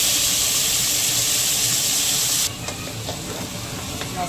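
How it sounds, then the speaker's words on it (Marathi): Turmeric and green peas sautéed in a hot oiled pan, a loud steady sizzle with scraping stirs that drops to a quieter frying crackle partway through. "परतून घ्यायचं. त्यामध्ये थोडा वाटाणा घातला."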